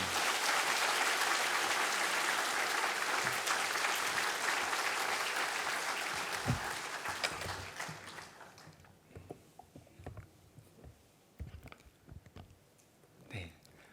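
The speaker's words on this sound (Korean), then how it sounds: "격려와 축복의 박수 부탁드리겠습니다" Applause from a church congregation during a Sunday worship service, offered as encouragement and blessing for a pastor. Broad, even clapping holds for about eight seconds, then thins to scattered claps that fade out.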